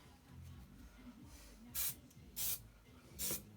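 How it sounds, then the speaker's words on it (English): Spray adhesive hissing from an aerosol can onto a sheet of plywood: three short, bright bursts roughly half a second apart, close and clear over a quiet room. "And all it does is just spray out a spray adhesive."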